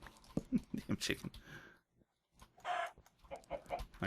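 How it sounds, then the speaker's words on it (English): Chicken clucks from a video game, a few short calls mixed in with someone talking over gameplay sounds. "I hear chickens."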